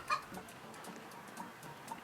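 Soft, scattered chicken clucks from a Roblox video game repeat in short bursts over a faint steady background hiss, quiet and somewhat distant with no talking.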